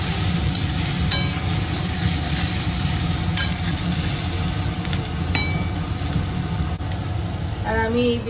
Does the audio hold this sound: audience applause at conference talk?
no